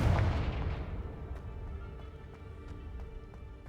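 An explosive Confringo spell goes off in Hogwarts Legacy, a single loud booming blast at the start that rolls into a decaying rumble with faint crackling debris trailing away.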